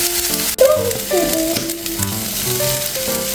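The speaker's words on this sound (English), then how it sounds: "give the onion a mix. We want to cook these onions up" Onions frying in a pan for a New Year soba dish hiss with a loud, continuous sizzle as they are stirred, with scraping sweeps and a sharp clatter early on.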